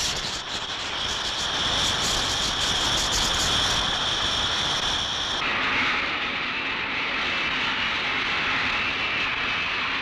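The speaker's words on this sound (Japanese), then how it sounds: "ジェットエンジンの噴射力を利用して除雪を行おうという研究も最近になって始められています。" A loud, steady jet-engine roar with a high whine from a jet engine used for snow removal, continuous throughout and shifting in tone partway through.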